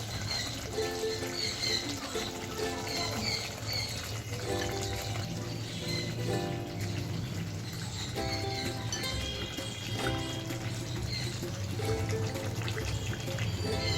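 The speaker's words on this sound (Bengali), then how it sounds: "আর খুব সামান্য আমি জল দিয়ে দিচ্ছি।" A small amount of water trickles and splashes into egg korma cooking in a pan, a soft continuous pour with light clinks and bubbling sizzle running steadily throughout.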